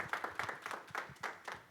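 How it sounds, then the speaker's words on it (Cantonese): A small audience claps together in short, uneven bursts, a modest round of hand clapping that stays fairly quiet and fades out quickly. "好多謝我哋俾掌聲"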